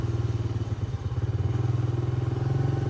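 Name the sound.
engine-mounted vehicle passing on a village road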